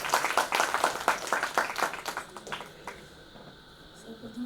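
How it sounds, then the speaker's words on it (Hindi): Audience applause in an auditorium at a Magadh Mahotsav literary session in the Patna Museum: a burst of scattered hand claps that thins out over about two seconds and leaves a quiet room. "एक बार ताली बजा दीजिए।"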